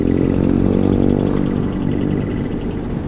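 Group of about 40 motorcycles riding together on the road, producing a loud, dense, continuous engine roar with layered rumbling and droning tones and no speech.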